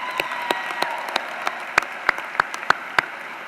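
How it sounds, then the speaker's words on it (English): Audience at the University of Central Florida spring commencement ceremony applauds, a steady wash of clapping with sharp individual claps standing out, loud and close, with no talk over it. "you can applaud that, that's worth applauding."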